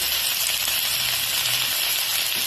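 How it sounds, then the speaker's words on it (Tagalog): Malabar spinach and sponge gourd sizzle steadily in a hot pan as they are sautéed, a close, dense frying hiss with no talking. "So, igisa na natin ang alugbati and patola."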